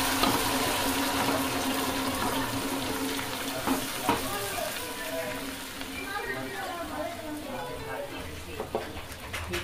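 Lentils for dal fry go into a pan of frying onion with ginger and garlic paste, giving a steady close sizzle with some stirring while a voice talks over it.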